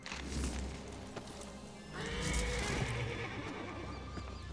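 A horse in The Elder Scrolls Online whinnies and its hooves clip-clop at a steady pace, with game-like ambience and a faint thud, fairly quiet overall.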